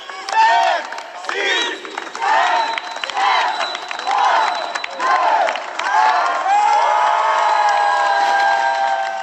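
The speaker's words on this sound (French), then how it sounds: "Il reste 5 minutes, on applaudit." Inmates and volunteers cheer, shout and clap for a runner in the closing minutes of a 24-hour race inside a prison, a loud, continuous crowd roar in repeated swelling waves of voices, ending in a sustained cheer.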